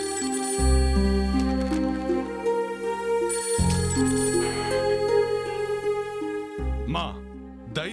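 A telephone ringtone rings repeatedly over a low sustained musical backing, with the melodic tones steady and close, ending in a brief warbling flourish.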